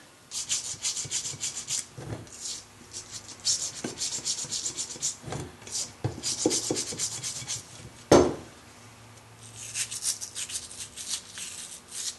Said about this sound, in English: Then you get in here and clean it out with brake cleaner real well